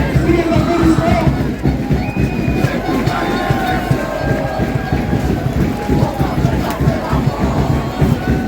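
Football supporters of USP Saint-Omer roar and clap in a dense, continuous crowd noise, loud and close, with a stadium announcer's voice over the top.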